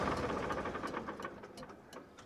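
A Sonalika DI-47 RX 50 HP tractor diesel engine knocks rhythmically at idle and then slows and fades as it is shut off, close and fairly loud at first, dying away toward the end.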